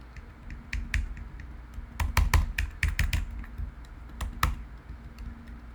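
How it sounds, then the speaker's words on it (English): Arrow keys on a computer keyboard are tapped close by in irregular bursts of crisp clicks, sometimes quick runs of several presses, over a faint steady hum with no talking. "now I'm using my keyboard, the arrow keys, to kind of move things around."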